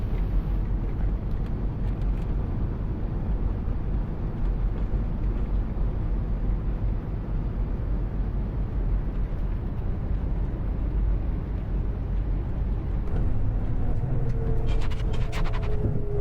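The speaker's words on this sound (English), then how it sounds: "I love the whining of the engine on this coach, this VDL, I really do." A VDL coach engine in the Tourist Bus driving game runs with a steady, continuous drone and whine throughout, holding an even level, with a few brief higher tones toward the end.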